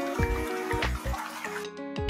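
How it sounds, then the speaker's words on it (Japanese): Shallow water runs over the ground at the entrance of a tower at the Kinjokan hotel in Atami, where goldfish swim in it. It makes a steady, close trickle and splash over a faint tonal background. "足元には水が流れており金魚が泳いでました水の音が癒しです"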